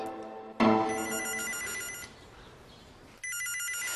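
A telephone bell rings indoors in a Korean TV drama scene, with a loud burst of ringing, a quieter stretch, then a second bout of ringing near the end over faint room noise.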